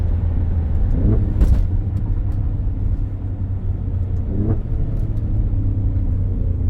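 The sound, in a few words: Alfa Romeo Stelvio Quadrifoglio engine sound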